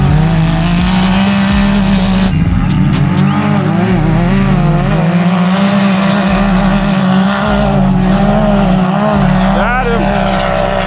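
A big turbocharged Can-Am Maverick X3 side-by-side roars steadily at high revs on sand dunes, a loud continuous engine drone with a revving surge near the end, while people talk over it.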